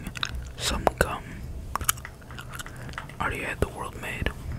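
Gum chewing up close, with moist clicks and smacks in uneven bursts between stretches of soft whispered speech.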